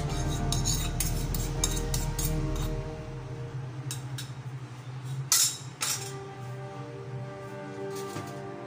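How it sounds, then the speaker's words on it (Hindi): Metal spoon clinks and scrapes against a pot while stirring red lentil daal with chili powder, salt, coriander, amchur, turmeric and ginger-garlic paste, in a quiet kitchen with a low hum fading after a few seconds. "इसको अच्छे तरीके से हिला लें।"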